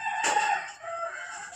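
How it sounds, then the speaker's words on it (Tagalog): Forty-five-day-old chicks in a pen give a brief, close burst of high, bright peeping and chirping. "Ang mga sisiw."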